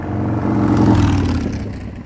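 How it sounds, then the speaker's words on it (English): A motorcycle drives past close by, its engine note swelling loudly and then fading as it moves away, with no talking. "Motorcycle, actually."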